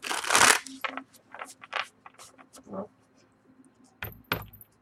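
Crisp papery riffling and slaps of tarot cards being shuffled, a loud burst at the start then several short bursts, close up with a faint voice underneath.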